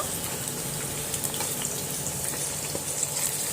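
Onions frying with dried chillies in a pan give off a steady, even hiss of moderate loudness with faint crackles, and no voices over it.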